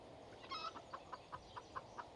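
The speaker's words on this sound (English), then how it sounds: "So she's got 3 little roosters in there, and it looks like 2 hens." Chickens on a farm, three young roosters and two hens, cluck in a steady, evenly spaced series of soft calls at moderate distance over a low background murmur.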